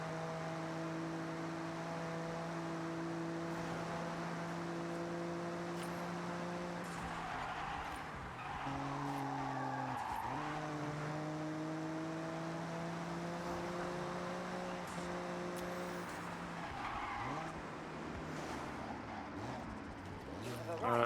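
Race car engines on a cross-country circuit in the video game Forza Horizon 6, a loud sustained engine drone that dips and shifts pitch around gear changes, with a brief skid partway through.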